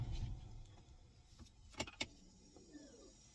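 A quiet car interior with a low rumble, then a couple of short mechanical clicks and a faint whirring motor sound, no voices.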